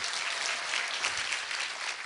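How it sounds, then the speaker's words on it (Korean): Audience applause at a Daegu citizens' roundtable meeting, a dense, even crackle of many clapping hands held steady for about two seconds, with no talk over it. "여러분 박수 부탁드립니다."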